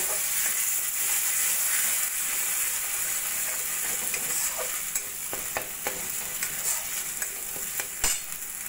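Sour yogurt is stirred into spice masala frying in hot oil for doi katla fish curry, giving a continuous close sizzle with scraping stirs and occasional soft clanks of the spoon.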